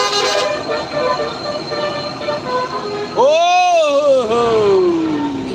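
Fantasi bus horn on the Sitinjau Lauik road, a loud close multi-tone honk that sustains, then sweeps up and bends down in a wavering whistle-like glide before fading, over rumbling background noise.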